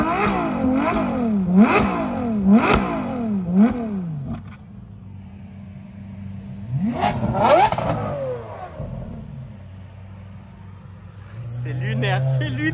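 Loud car exhaust revving at an event, with several sharp throttle blips in quick succession, a short pause, then another hard rev and a steady idle; voices are heard talking between the revs.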